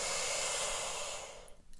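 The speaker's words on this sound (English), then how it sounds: "So breathing in" A person takes one long, deep breath in, a steady airy hiss that fades toward the end, close and quiet.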